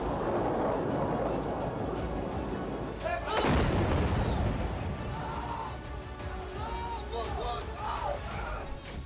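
Missile fire launched from Iran during the Iran–Israel conflict, heard amid a noisy crowd: continuous rumbling roar with one heavy booming blast near the middle, followed by a lingering babble of voices.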